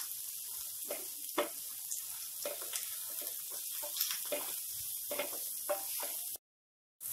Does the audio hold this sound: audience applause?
no